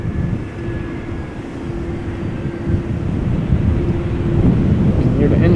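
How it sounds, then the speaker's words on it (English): Business jet engines at Amsterdam Schiphol Airport, a steady distant roar with a thin whine that gradually grows louder and rougher, with wind buffeting the microphone and a voice talking faintly underneath. "The engines of that bizjet"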